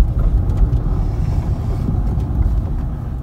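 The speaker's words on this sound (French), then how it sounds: "je remonte le pied afin que le véhicule reprenne de l'allure" A car rolling forward and picking up speed after the driver lifts off the brake during a precision-stopping exercise, a steady low engine and road rumble with wind noise, constant and fairly loud throughout.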